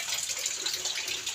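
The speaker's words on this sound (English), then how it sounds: "it's raining and this is the way we collect our rainwater. Yes, these are the gutters." Rainwater pours from roof gutters into collection during rain in an African village, a steady rushing gush of water, fairly faint and continuous without voices.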